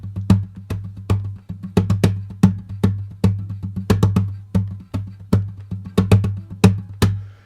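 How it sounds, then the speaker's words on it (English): Hand tapping out the accents of a sixteenth-note guitar pattern: a steady stream of crisp, close taps with stronger accented hits recurring in a syncopated rhythm, alone with no voices. "just try and tap out the accents"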